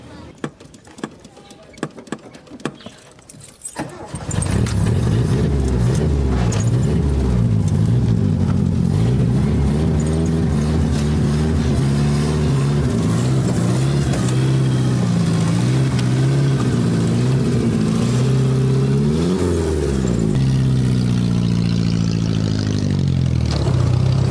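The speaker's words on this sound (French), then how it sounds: "cette voiture ancestrale roule en pleine ville et fait dans le transport clandestin le tronçon Nkola Fambankwaba" Very old car working as an unlicensed taxi in Cameroon's capital: after a few seconds of quieter clatter, a loud, continuous engine drone sets in and holds, rising and falling gently in pitch.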